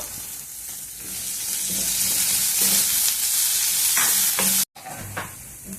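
Chopped onions, carrot pieces and frozen peas fry steadily in a pan with a little ginger for ragi upma, a continuous close sizzle with soft stirring scrapes and one brief break near the end.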